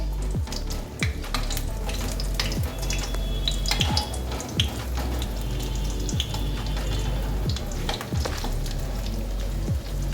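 Chicken cutlets sizzle steadily in oil in a frying pan on low heat, with scattered pops and clinks as the pieces are turned over.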